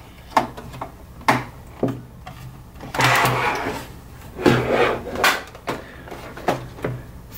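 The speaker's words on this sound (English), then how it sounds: "it looks like we're going to have to take off this ground screw over here" Small screw being removed from an Amiga 500 floppy drive: a series of close, quiet clicks and taps with brief scraping rasps of a screwdriver in between, no talking.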